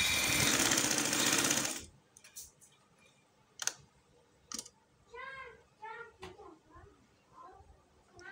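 A sewing machine stitches along a garment neckline, running loudly and steadily for about two seconds before stopping. Quieter clicks and handling noises follow, along with several cat meows in the background.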